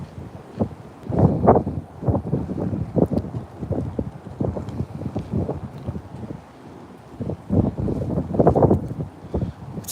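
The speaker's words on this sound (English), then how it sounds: "It's so cold and windy, my hands are like going numb already." Cold, gusty wind buffets the microphone outdoors on a bass-fishing trip, rising and falling in heavy rumbling bursts, with faint handling noise and no speech.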